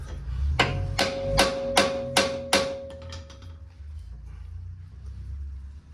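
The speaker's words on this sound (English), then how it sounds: "take a big screwdriver and give it the whacky with the hammer" Five sharp metallic hammer strikes on a big screwdriver during car brake work in an even rhythm, ringing briefly, followed by a couple of lighter taps and quiet.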